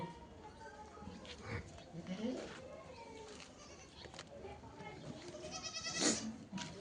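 Barbari goats on a goat farm bleat several times, with a sharp, nearby bleat near the end, over a constant background of farm noise and people talking.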